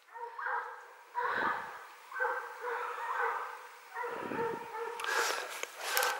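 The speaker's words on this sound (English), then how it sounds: "That's the dogs, they're on." Hunting hounds baying in repeated drawn-out howls and yelps while chasing deer through woods on the Quantock Hills, a loose chorus of several dogs at moderate distance with no talk.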